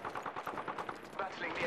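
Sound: gunfire in Apex Legends video game

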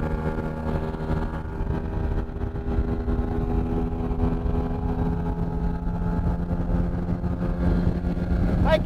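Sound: engine running during Sea Foam fuel treatment

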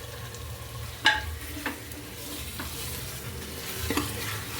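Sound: stirring chicken with masala in a pan on low gas

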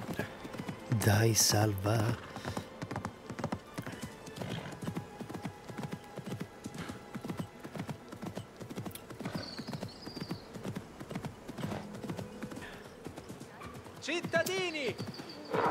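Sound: horse hooves clip-clopping in video game Assassin's Creed Mirage

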